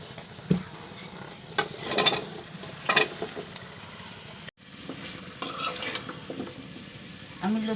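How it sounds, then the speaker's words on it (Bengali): Taro stolons are stirred and fried in spices in a pan, with a close, crackling sizzle and repeated scraping sweeps of a spoon against metal. "আমি লতিগুলোকে এভাবে নেড়ে দিব যাতে সবগুলো লতির গায়ে মশলা লাগে"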